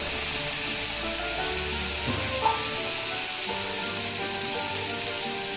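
Sliced eggplant slips into hot oil with curry leaves for a Chettinad-style eggplant masala stir-fry, giving a steady close sizzle with a brief splash or clatter midway.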